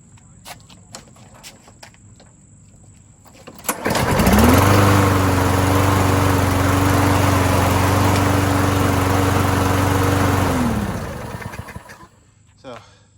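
A 2007 Lawnboy 10686 lawn mower engine, running on a substitute ignition coil, starts up, runs loud and steady for about seven seconds, then shuts off, with clicks and handling noises before and after.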